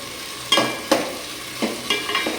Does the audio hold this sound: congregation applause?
no